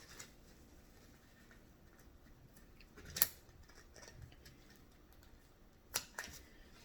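Two quiet snips of scissors cutting off a rubber band string for a paper plate banjo craft, each a brief crisp click a few seconds apart against a faint, quiet room.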